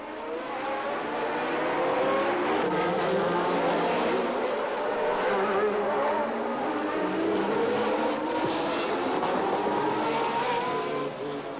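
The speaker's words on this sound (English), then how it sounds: "Expensive engines revved hungrily in the hairpins" Formula 1 engines from the 1982 season rev and whine through tight hairpin corners in Monaco, a steady, fairly loud drone with rising and falling pitch sweeps lasting throughout, no voices over it.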